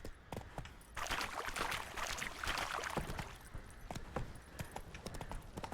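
Horse hooves clip-clop in a video game, a steady run of hoof beats with some busier, louder stretches and faint background sound.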